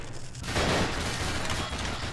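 A rapid burst of video game gunfire in Nightmare House 2 rattles loudly and densely for about two seconds after a brief quieter lead-in.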